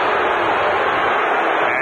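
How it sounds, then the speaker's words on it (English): Football stadium crowd at a 1989 Houston Oilers home playoff game against the Pittsburgh Steelers, a steady, dense roar of many voices filling the whole moment without a break. "And the Oiler crowd reacts."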